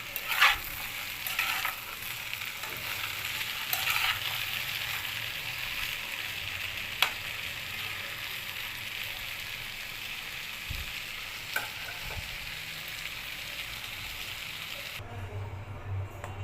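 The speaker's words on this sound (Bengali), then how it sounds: "এবার এটাকে খুব ভালো করে মিশিয়ে ভেজে নিব।" Cauliflower fries with a sprinkle of turmeric in a pan, crackling in a steady, close sizzle with a few sharp stirring knocks scattered through. The sound cuts off abruptly near the end.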